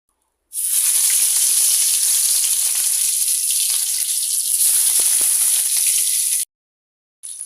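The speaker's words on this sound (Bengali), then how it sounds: "এখন মাছগুলো ভেজে নিব" Eight pieces of rui fish, cleaned and coated with salt and turmeric, frying in hot oil, a loud, steady, close sizzle that runs for about six seconds and then cuts off abruptly, with no talk.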